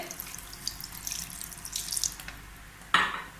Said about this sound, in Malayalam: ഞാൻ ഒരു 1/2 കപ്പ് വെള്ളം കൂടെ ഒഴിക്കുന്നുണ്ട്